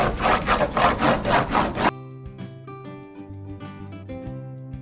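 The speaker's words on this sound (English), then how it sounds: "I'm just gonna show you how little pressure I'm putting" Surfboard wax rubbed onto a surfboard deck with light pressure, a rhythmic scraping rub heard close up in several short strokes, then it stops and soft music carries on alone.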